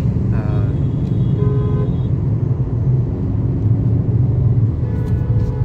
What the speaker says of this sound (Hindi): ट्रैफिक काफ़ी ज़्यादा है